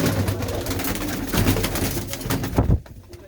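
A female pigeon with pale eyes and a black beak coos in short repeated bursts, close by, over a busy rustling background.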